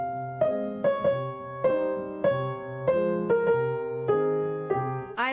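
Piano passage played close and clear as a steady run of separate notes and chords, roughly nine evenly spaced attacks with sustained harmonics, somewhat flat and unshaped in phrasing, ending with a brief rising swipe.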